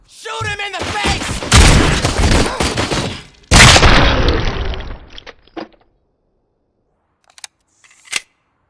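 Gunfire blasts in the Robocop: Rogue City video game, two long loud bursts of rapid shots close by, then scattered faint impacts and quiet, with a voice talking at the start.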